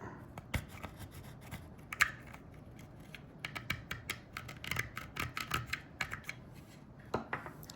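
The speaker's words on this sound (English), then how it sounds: "Maybe scrape this down a little bit." A metal pistol part is scraped down during P-07/P-09 assembly, giving close, quiet irregular rasping strokes and small scratchy taps in uneven bursts.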